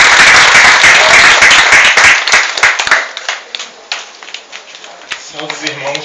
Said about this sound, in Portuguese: Vamos receber o nome de Deus com as palmas bem lindas para Jesus.